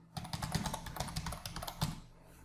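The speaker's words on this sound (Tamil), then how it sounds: "சேஞ்ச் பண்ணிவிட்டு இப்போ பார்த்தீங்கன்னா டைப் பண்ணுறேன்" Quick, close keystrokes clatter on a computer keyboard while typing Tamil text in Photoshop, in an uneven burst of clicks that stops after about two seconds, with no talking.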